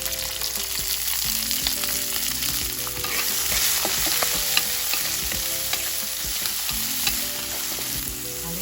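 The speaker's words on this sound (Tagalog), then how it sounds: "Fry your garlic until it's golden brown." Garlic, red chilies, green peppers and green onions fry in hot oil for crispy chicharon-style pork, a dense, steady crackling sizzle with frequent spatula stirs and a faint background hum.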